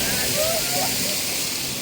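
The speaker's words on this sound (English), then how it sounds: "you can walk behind the waterfalls here" Steady roaring rush of a waterfall at the Toverland theme park in the Netherlands fills the scene, broad and loud, with a faint voice briefly under it.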